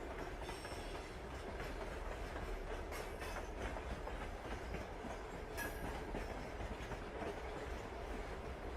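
A night train on a winter journey rolls along with a soft, continuous rumble, its wheels tapping out a steady clickety-clack rhythm over the rails, with occasional faint squeals.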